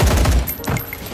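A rapid burst of gunfire rattles through a film attack scene on terrorists, loud, close, punchy shots in a quick run that fades into sharper scattered reports.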